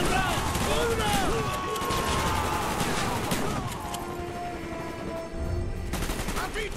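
Dense, continuous gunfire and explosive battle noise in Call of Duty: Black Ops (2010), loud and close. Shouted voices and faint talk run beneath the barrage.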